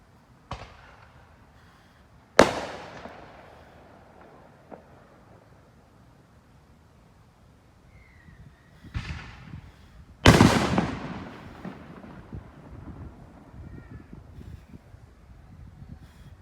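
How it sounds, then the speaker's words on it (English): Firecrackers and fireworks set off by neighbors in a residential neighborhood: several sharp, loud bangs at irregular intervals, some near and some more distant, each followed by a crackling echoing tail against quiet outdoor background. "I have a firecracker at the end of my driveway that I'm about to set."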